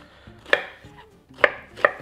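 A knife chops zucchini cores on a cutting board in a kitchen, three crisp close strikes at an uneven pace with soft knocks between them and no talking.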